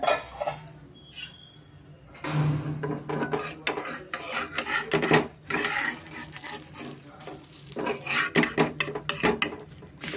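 A metal spatula scrapes and clatters against a hot pan while lifting off a vegetable dosa, with busy rubbing and scraping strokes, some louder knocks, and brief pauses between.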